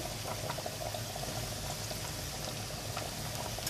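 Black cabbage soup with added salt bubbles in a pot as it is stirred, a steady soft boiling and liquid churning, fairly faint and close with no talk.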